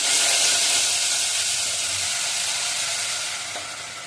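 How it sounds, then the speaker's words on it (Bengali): Food frying in a pan during home cooking, a steady close sizzle with bright hiss that fades slightly toward the end, no talk over it. "এদিকে ভাজা হচ্ছে"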